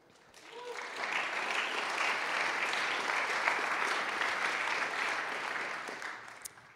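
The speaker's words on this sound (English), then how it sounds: "let's give them a hand of applause" Audience applause for the DjangoCon Europe 2018 organizers at a conference lightning-talk session: a steady, dense wash of clapping that swells in, holds evenly for several seconds, then thins out near the end.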